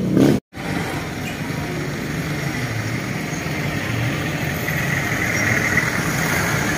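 A motorized tricycle's engine runs steadily nearby, a constant low idling drone with a brief dropout at the start and no voices.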